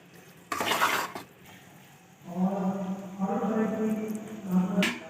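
Besan halwa with cardamom powder being stirred in a pan, a few scraping and clinking strokes followed by soft sizzling, close and moderately loud, with no talk.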